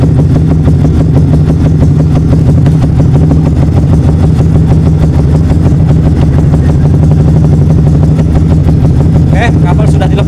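Yamaha R15 motorcycle engine idling steadily with one battery cable disconnected, a continuous low throbbing hum held close and loud for the whole stretch while someone talks over it.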